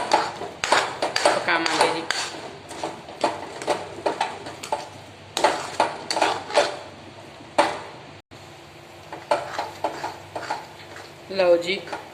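Potato halwa and sugar are stirred in a kadai. Close, repeated scraping and clinking strokes come in an uneven rhythm, with a brief pause partway through.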